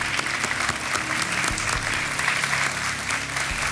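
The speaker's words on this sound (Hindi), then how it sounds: "तालियों के साथ इनका स्वागत" A television quiz-show studio audience on Kaun Banega Crorepati applauds to welcome a guest, giving dense, loud, continuous clapping from start to finish.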